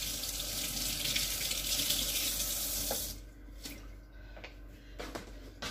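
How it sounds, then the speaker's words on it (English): Tap water runs loudly into a kitchen sink while gloved hands are rinsed under the stream, then the flow stops, leaving scattered drips, splashes and squishing sounds. "let me rinse my hands."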